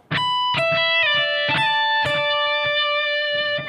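Overdriven electric guitar plays a short lick of picked notes with small slides between them, ending on a ringing sustained tone.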